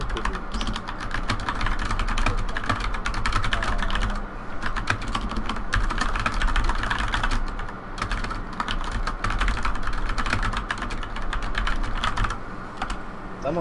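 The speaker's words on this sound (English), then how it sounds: "Someone's typing this stuff." Rapid, continuous clicking of keys on a computer keyboard, steady and fairly close, with dense irregular keystrokes running throughout and no talking.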